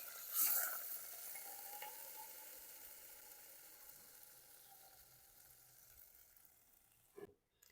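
A ground masala paste from the mixer is tipped into hot oil with cumin and curry leaves for Vidarbha-style dahi kadhi, giving a loud sizzle at the start that settles into a steady, fading fry, with a brief clatter near the end.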